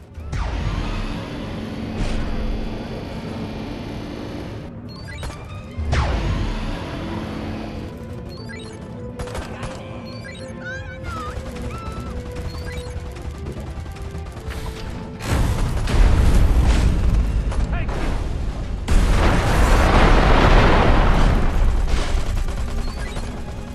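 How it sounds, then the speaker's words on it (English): Deconstructor weapon barrage in Destroy All Humans 2: Reprobed, a long stretch of mechanical whirs and creaks building into dense, loud blasts and rumbling explosions that intensify toward the end. "My deconstructor is ready for another barrage."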